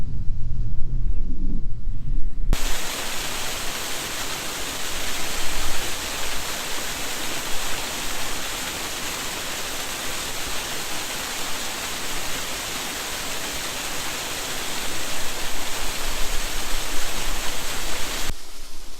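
Waterfall at the Loup of Fintry in Scotland, a steady, loud broadband roar of falling water that runs unbroken for most of the stretch after a quieter outdoor start.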